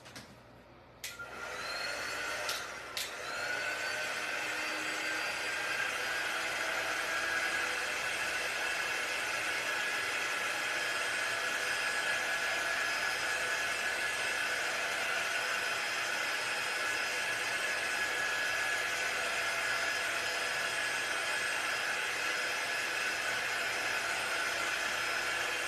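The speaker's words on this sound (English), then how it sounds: "I'm going to use my Magnolia Design Company heating tool. You could use a blow dryer." A steady, loud whoosh of a Magnolia Design Company hot-air heat tool blowing continuously with a high whine, after a brief click and start-up at the beginning.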